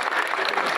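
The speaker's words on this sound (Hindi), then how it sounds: "ताली होनी चाहिए सर।" Crowd applause at a chamber of commerce election gathering, a brief, dense burst of clapping from many hands close by.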